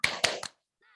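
Three quick, sharp claps from children's rhythmic spirit clapping (tepuk semangat) in a radio studio, close and evenly spaced, followed by a faint brief sound.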